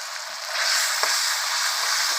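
Glass noodles stir-fry with pork and garlic in a hot pan, giving a steady bright sizzle with one quick utensil tap midway. No voices are heard.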